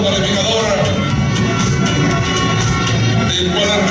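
Crowd cheering and applause at a beauty pageant final in Bolivia fill the venue as a contestant is presented, a dense, steady wash of clapping and voices.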